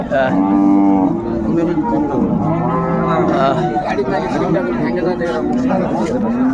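A dairy cow lets out several long, loud moos close by at a cattle market in Dinajpur, with people chattering in the background.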